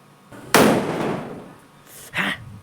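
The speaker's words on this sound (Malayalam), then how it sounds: "ചെറിയ പടക്കം, അപ്പം ചെറിയ ശബ്ദമേ ഉണ്ടാവുള്ളൂ." A small gundu firecracker bursts with a sharp, loud bang that decays over about a second, followed by a second, fainter pop.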